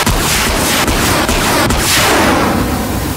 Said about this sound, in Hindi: फायर स्पीटर, आग थुकती है ये गन